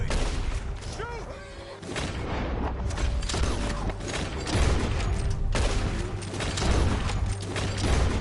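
A PS4 game erupts in a loud, dense volley of gunfire and booming impacts, rumbling continuously, with a voice briefly heard under the shots.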